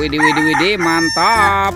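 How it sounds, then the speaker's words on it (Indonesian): A toy rooster plays a loud cock-a-doodle-doo crow in a few rising and falling segments, close and clear, with a short spoken exclamation overlapping near the end. "Dan ini ada ayam berkokok."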